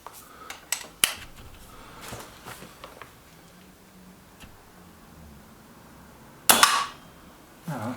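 Shots from a Kral NP-02 Puncher .22 air rifle fired at a target outdoors: several sharp cracks spaced irregularly, a louder close report near the end, and faint ticking in between.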